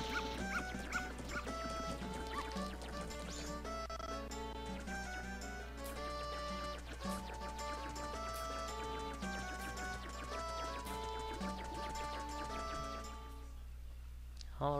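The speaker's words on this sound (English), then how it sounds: "the dogs don't like Dekus, so be careful around dogs" Dogs barking and whimpering in The Legend of Zelda: Majora's Mask, steady yips and barks over continuous game music with tonal layers throughout.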